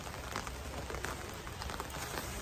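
Steady rain falls in the hills of Kalimpong, a dense hiss of drops pattering on surfaces, close and continuous, with no voices.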